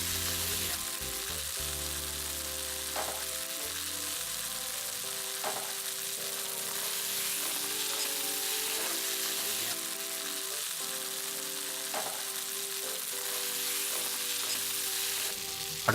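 Grated carrot sautéing in an oiled pan for veg spring rolls, a continuous close sizzle with occasional stirring clinks and scrapes, steady and fairly loud throughout, no speech.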